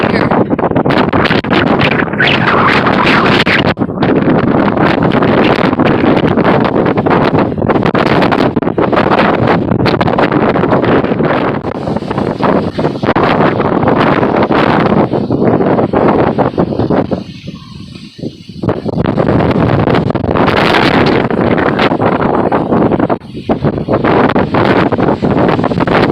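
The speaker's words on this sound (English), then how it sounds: "There's some pretty strong gusts already here." Strong hurricane wind gusts roar loudly and continuously, buffeting the microphone with a heavy rushing blast that briefly dips before surging back.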